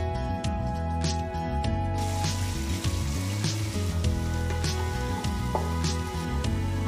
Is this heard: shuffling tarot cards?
no